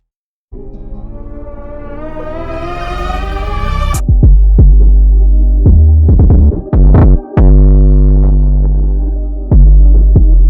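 Electronic drums produced in FL Studio and run through multiband distortion: a rising, buzzing pitched sweep builds for several seconds, then loud, heavily distorted booming hits and snappy transients pound in an uneven pattern, with no voices.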